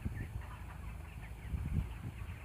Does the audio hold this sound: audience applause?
no